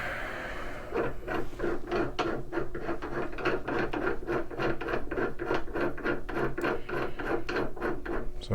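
Steel seating die being screwed into a reloading press, a steady rhythmic series of rasping, ratcheting scrapes repeating closely for several seconds.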